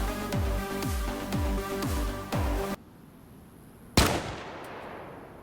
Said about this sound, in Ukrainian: Ну, йдемо стрельнемо. Перший постріл.